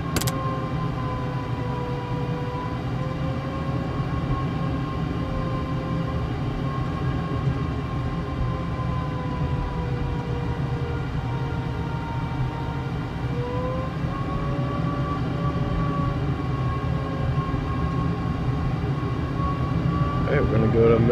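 A Darkstar jet in a flight simulator game roars steadily at military power on takeoff, a constant loud engine drone with faint tonal whines while a voice talks over it.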